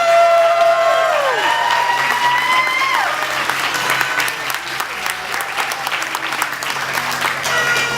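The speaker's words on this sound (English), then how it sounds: "Let's give a round of applause for Peter Caldwell." An audience at a mayoral primary election speech breaks into sustained applause, loud and close throughout, with some cheering mixed in.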